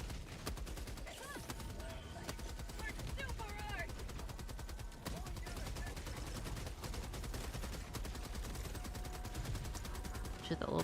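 Dense, continuous automatic gunfire from the Helldivers 2 video game, rapid shots in steady streams with explosions underneath, loud and sustained throughout, with a voice speaking faintly at times.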